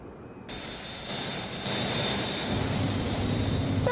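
A steady, loud roar of Airbus airliner jet engines during a test visit to San Francisco, broad and rushing like wind, building in stages and continuous throughout.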